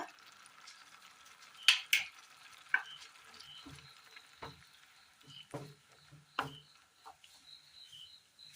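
Masala with hot water and salt sizzling and starting to boil in a pan, a steady soft crackle with a few sharp clinks and stirring scrapes scattered throughout, close and fairly quiet.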